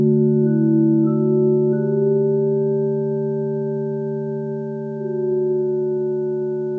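Clean sine-wave synthesizer tone from the Reason synth, a steady sustained note with a stacked octave and slight pitch glides, smooth and continuous with no voices.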